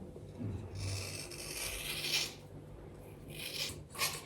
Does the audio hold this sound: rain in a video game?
no